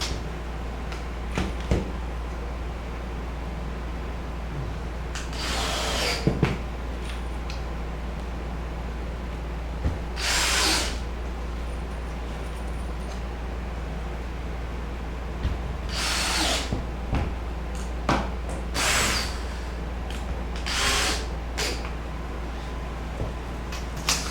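Power drill driving screws into a pop-up camper being rebuilt as a hard-sided teardrop, short whirring bursts separated by pauses over a constant low hum, fairly close, no talking.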